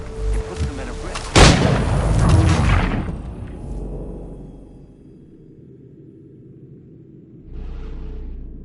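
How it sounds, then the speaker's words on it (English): Cannon fire in Assassin's Creed III, one loud booming blast followed by a long rumbling decay that fades to a low hum, with a faint rustle near the end. "Those cannons are like to cause trouble."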